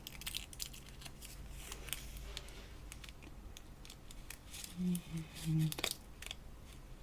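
Scissors snipping material for a dichroic glass effect, faint quick crisp cuts in a quiet room, with a short spoken word and a few soft hums.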